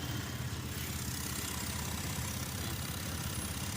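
A car engine that had been submerged in floodwater idles steadily after a hard start, a continuous low rumble with a faint knocking texture, close and alone with no talk.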